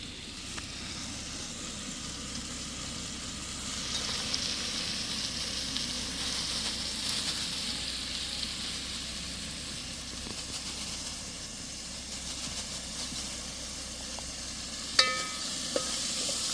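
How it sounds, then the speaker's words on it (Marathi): Washed misal sprouts go into hot oil and masala in a pan at a camping site, producing a steady low sizzle and hiss with a few sharp clinks near the end, fairly faint. "सो आता हे धुतलेलं जे मिसळ आहे ते आता मी ह्याच्यामध्ये सोडतो आहे"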